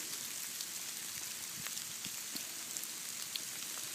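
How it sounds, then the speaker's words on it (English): Small hail mixed with snow falls steadily outdoors on a cold day, a dense, even patter of tiny ticks and taps with a few slightly sharper hits, close around and unbroken throughout. "Yeah, this is hail. Awesome. Not big hail."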